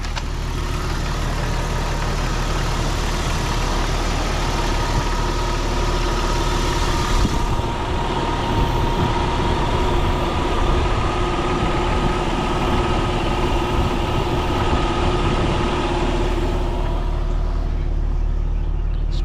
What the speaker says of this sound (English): Idling a little bit rough, but that's that air conditioner's pulling